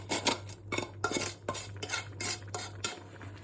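Beetroot halwa is stirred in a pan, with a spoon scraping and knocking against the metal in quick repeated strokes and a faint sizzle beneath.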